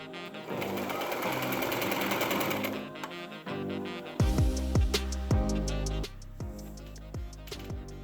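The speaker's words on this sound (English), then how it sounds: "first I'm gonna put a basting stitch in so I can iron out the side seams nicely" A sewing machine runs a basting stitch along the side seams of a homemade tiered skirt, first as a steady fast whir, then as a stretch of rapid rhythmic mechanical ticking after a brief pause, close and fairly loud.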